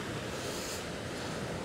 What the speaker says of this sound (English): That noise of the waves, it's going to be brilliant tonight.